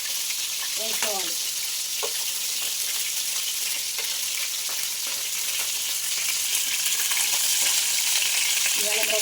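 Fish pieces deep frying in oil for a spicy fish curry, a steady dense sizzle and crackle that persists throughout, with occasional stirring clinks.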